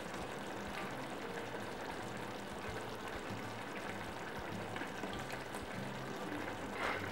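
Beetroot relish with apple vinegar simmers in a pot, giving off a steady, dense bubbling and spitting that stays even and close throughout, with no voices.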